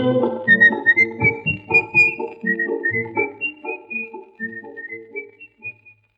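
A sweet, melodic tune whistled over a full orchestral backing, the bright whistled line running steadily above the instruments.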